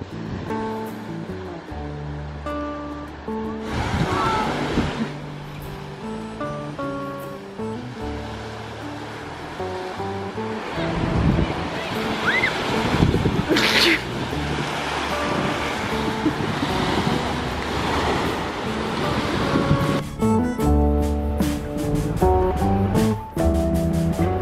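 Surf washing onto the beach at Folkestone, Kent, a steady wash of waves with wind, rising and falling in loudness, over a background of music.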